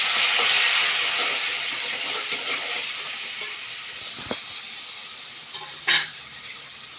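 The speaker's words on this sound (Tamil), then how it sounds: "தக்காளி வதங்கிறது" Tomatoes fry in a pan while cooking a Tamil egg tamarind curry, giving a steady close sizzle and hiss throughout, with one brief utensil clink near the end.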